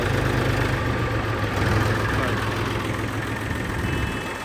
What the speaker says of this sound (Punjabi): ਤੁਹਾਨੂੰ ਸਟਾਰਟ ਸਪੂਟ ਕਰਕੇ ਦਿਖਾਉਣਾ ਟਰੈਕਟਰ ਦੀ ਆਵਾਜ਼ ਵੀ ਚੈੱਕ ਕਰਾਉਣਾ